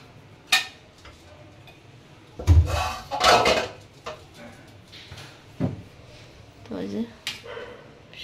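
Lunch being served in a home kitchen, fish curry with pointed gourd dished out: scattered clinks of plates, pots and utensils with a loud clatter in the middle, while people talk nearby.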